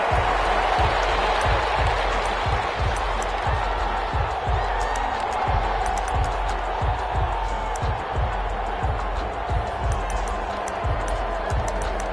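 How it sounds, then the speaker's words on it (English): Crowd noise fills an NFL stadium in a PS4 football game between the Jacksonville Jaguars and New Orleans Saints, a steady loud roar under a regular thumping beat, with commentary voices mixed in. "This crowd is ready as their guys get set to match up between the Jacksonville Jaguars and the New Orleans Saints."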